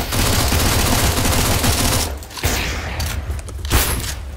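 Rapid gunfire in a CS:GO match, with dense overlapping bursts of automatic shots that break off briefly and then resume as sharper, separate cracks.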